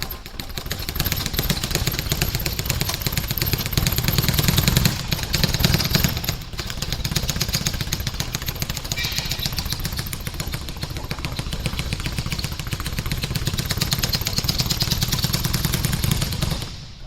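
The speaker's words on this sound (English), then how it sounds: "Friend punching speed bag and Jim" A speed bag is punched by fists in a binaural recording, making a rapid, continuous rattle of dense blows that blur into a motor-like drone.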